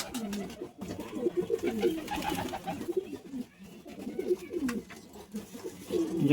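Pigeons coo in bursts of throaty, rolling calls, near and moderately loud, with pauses between flurries and a little background talk.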